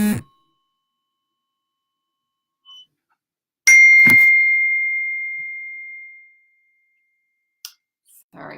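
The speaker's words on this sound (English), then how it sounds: "Sorry for the ding." A single bright ding, like a small bell or chime, rings out clearly and decays slowly over a couple of seconds in an otherwise quiet room, with a few faint knocks around it.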